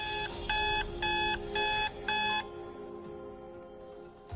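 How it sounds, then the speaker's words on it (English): An alarm clock buzzing in four evenly spaced, loud electronic bursts, each about half a second long, then stopping and leaving a low background hum. "the real alarm clock is buzzing away"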